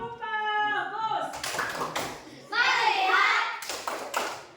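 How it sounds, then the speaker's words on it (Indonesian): Children in a Grade 6 classroom perform the 'tepuk bagus' clapping chant, a burst of rhythmic group claps and taps mixed with young voices chanting along, close and lively. "Tepuk bagus."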